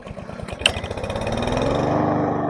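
A Troy-Bilt tiller's small engine runs steadily close by, its dense low firing rhythm picking up and holding a louder, slightly higher pitch after a brief sharp click, with no voices.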